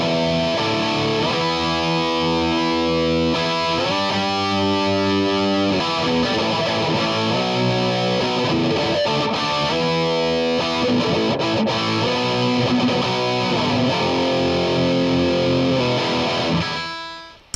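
A Charvel electric guitar pickup is played through heavy distortion for metal, with chugging riffs and sustained chords ringing loud and continuous before a final cutoff, no talking.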